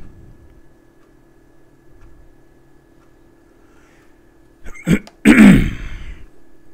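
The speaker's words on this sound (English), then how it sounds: "Sorry if you guys hear me hacking and coughing and stuff." A quiet stretch, then a short throat clearing followed by a louder, rough cough close to the mic near the end.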